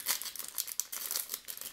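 Crinkly plastic blind bag of collectible toys being opened by hand, a steady run of close, sharp crumpling and tearing rustles with no talk.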